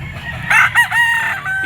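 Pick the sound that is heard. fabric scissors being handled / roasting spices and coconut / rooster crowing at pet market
rooster crowing at pet market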